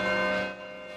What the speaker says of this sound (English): The bells at Minneapolis City Hall didn't ring, they rocked